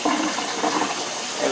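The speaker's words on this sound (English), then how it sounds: "I'm gonna add a little water because the taco seasoning is thick" Water pours briefly into taco seasoning, a short, close rush of liquid with a faint voice underneath.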